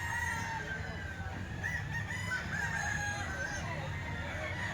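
A White Kelso sweater gamecock rooster crows a long, drawn-out call over steady low background noise.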